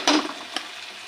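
Spice masala fries in oil over a medium gas flame for a brinjal dish, giving a brief close sizzle with a sharp crackle at the start and a smaller pop after.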